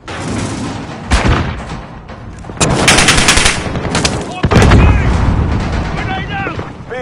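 Video game gunfire in a military shooter, loud bursts of automatic weapons and heavy booms stacked close together, with radio-style voices talking over the chaos.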